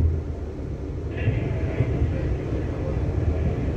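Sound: London Northwestern Railway train moving

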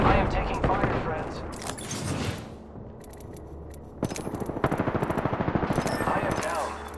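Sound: gunfire in a video game

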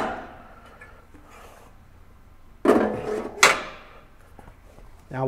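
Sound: take-up reel bracket sliding along Epson printer stand crossbar

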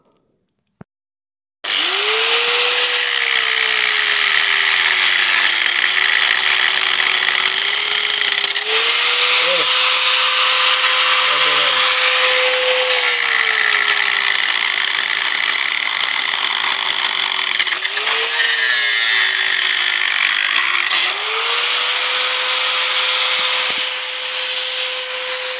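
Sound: power tool cutting iron hinges

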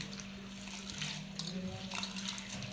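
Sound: washing moth beans in water

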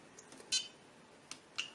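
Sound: alarm tone beep of ISDT BG-8S battery checker

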